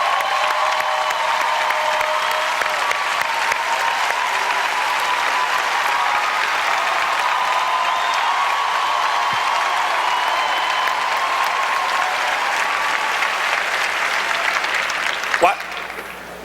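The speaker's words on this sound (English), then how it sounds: "Why he gets so much applause?" A large church congregation gives Bishop Eddie Long a long, loud, steady round of applause with some crowd cheering mixed in, continuing for over fifteen seconds at a State of the Black Union gathering.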